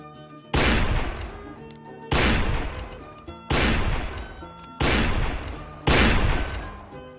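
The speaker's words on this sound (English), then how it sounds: "Fire at will." Musket volleys from an infantry line in the video game Mount and Blade, five loud booming discharges at roughly even intervals, each rolling off into a decaying echo before the next.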